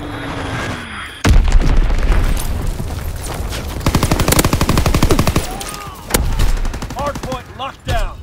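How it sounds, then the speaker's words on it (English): An Azon bomb detonates in a Call of Duty: WWII match with a sudden heavy boom, then long stretches of dense, rapid machine-gun fire and scattered shots continue nearby, broken by short pauses and further bursts. "Dropping Azon bomb."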